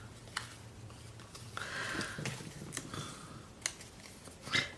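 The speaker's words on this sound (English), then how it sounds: "I'm going to cut out this Merry Christmas." Scissors snip through card stock while a Merry Christmas piece is cut from a Christmas card, quiet close crisp clips spaced irregularly with soft paper rustling between them.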